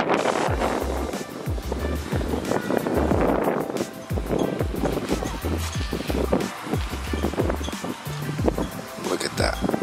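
Wind buffets an outdoor microphone as someone cleans a Honda's wheels in the rain, loud continuous rumbling gusts with water splashing and scrubbing noises over it.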